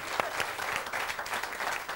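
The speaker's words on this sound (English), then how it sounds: "You can stop clapping now, madam." An audience applauds after a comedy sketch, steady, dense clapping from a live crowd that carries through the whole moment without a break.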